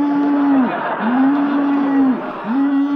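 Cow mooing sound effect, three long loud lowing calls in a row with brief gaps between, close and clear with no talking over them.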